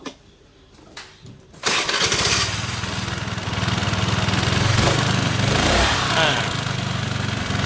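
A motorcycle engine, just repaired for a throttle fault, coughs a few times then catches and settles into a loud, steady idle with slight revs, close to the microphone.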